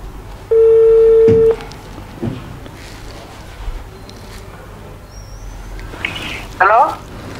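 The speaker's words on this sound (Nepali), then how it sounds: "आदरणीय दर्शकहरू हामी फोन लगाउँदैछौँ" A phone is dialed for a call to a foreign-employment agency manager: a long steady tone, then sparse faint clicks and rustles, and a couple of short chirpy bursts near the end, with no clear ringing pattern.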